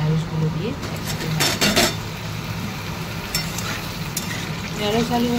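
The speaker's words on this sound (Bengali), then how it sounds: "ঢ্যাঁড়স আলু ভাজা" Okra and potato pieces fry in hot oil with black cumin seeds and chilli in a home kitchen pan, giving a steady close sizzle broken by metallic scrapes and clinks of stirring.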